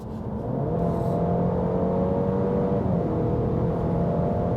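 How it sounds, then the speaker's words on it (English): A 2023 Alfa Romeo Giulia Competizione accelerates hard from 100 km/h, a steady loud in-cabin engine drone and road roar rising in pitch as speed builds. "So, are you guys ready to accelerate? From 100 kilometers an hour, let's go."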